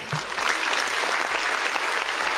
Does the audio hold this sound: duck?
no